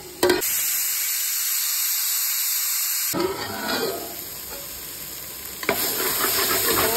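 Mutton masala sautés and sizzles steadily in a pan for a mutton thalakari, a dense frying hiss with stirring scrapes, loud and close, with no talk.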